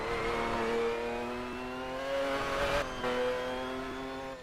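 A historic GT1 race car engine revs hard on track, a loud sustained mechanical whine that holds steady, then briefly dips and lifts again near the end, with no talking over it.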